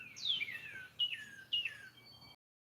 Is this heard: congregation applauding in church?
no